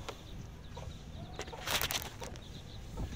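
Five-day-old chicks give faint, thin, high chirps in scattered short bursts over quiet background rustling, with a busier cluster of peeps near the middle.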